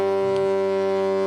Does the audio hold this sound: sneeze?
no